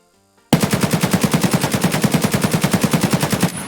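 An AKM rifle in Escape from Tarkov fires one long, loud, rapid full-auto burst lasting about three seconds, with evenly spaced shots that start abruptly after a brief quiet moment.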